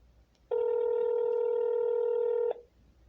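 A single steady telephone tone from a call to a police department sounds for about two seconds, loud and clear over faint background hiss, then cuts off.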